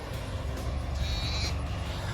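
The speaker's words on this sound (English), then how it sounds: "I've got my little chicks and my little goats" Pygmy goats bleat faintly amid steady outdoor background noise, with a brief higher-pitched call rising over the rumble partway through.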